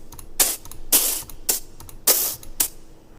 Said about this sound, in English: the sound that plays, that's supposed to be like when a lightsaber is like locked against another one and you're holding it there and it's sparking and crackling